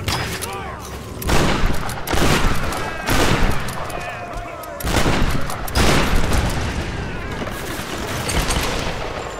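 Heavy gunfire rattles through a Tomb Raider firefight in loud repeated bursts separated by short gaps, with booming impacts and gusting wind in the background.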